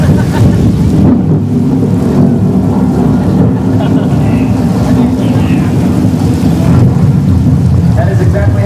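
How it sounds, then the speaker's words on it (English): Artificial rain from studio sprinkler heads pours down around a tram on a studio tour, a dense, loud, steady rushing hiss with low rumble throughout. "by using a sprinkler head system that shoots the water straight up into the air, allowing it to fall back down to the earth naturally"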